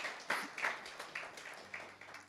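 A church congregation at a celebration worship service gives a short round of applause. The clapping is faint and scattered, heard as a quick patter of claps in a couple of loose waves.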